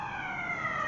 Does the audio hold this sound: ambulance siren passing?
yes